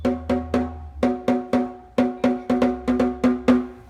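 Dry, tonal drum hits without any buzz, ringing with a hollow pitched body, struck in a steady pattern of about fifteen close beats.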